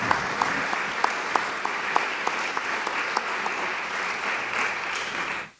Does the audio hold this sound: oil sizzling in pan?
no